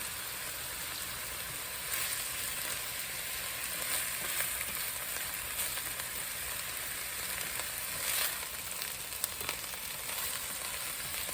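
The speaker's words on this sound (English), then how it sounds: "My onions are sweating now. I'm just going to go ahead and add the garlic cloves." Onions and whole garlic cloves sizzle softly in a pan, a steady, fairly quiet crackle with scattered pops that runs on continuously, with no one talking.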